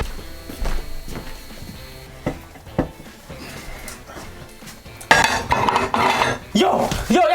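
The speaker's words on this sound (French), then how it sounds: "T'es en train de faire la vaisselle." Dishes being washed at home: pots, plates and cutlery clatter and clink in scattered bursts, growing louder and busier toward the end, with faint movement in between.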